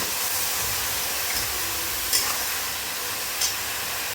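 Mushrooms seasoned with black pepper and salt are stirred and fried in a pan, giving a steady, close sizzling hiss with a couple of brief scraping clicks.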